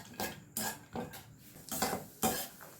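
Cashew nuts are fried in ghee in a pan for bread halwa, heard as quiet, close scraping and clinking of a spoon against the metal pan in short, spaced strokes.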